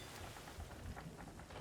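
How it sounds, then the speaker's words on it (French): Stormy weather in the Sea of Thieves game, faint steady rain wash with low rumbling underneath, heard softly at a distance with no voices. "c'est compliqué dans la tempête"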